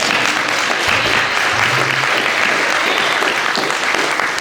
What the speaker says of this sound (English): But I want to applaud him for being here.